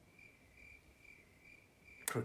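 A steady, high cricket chirp pulses softly over faint background hiss, ending with a short sharp click.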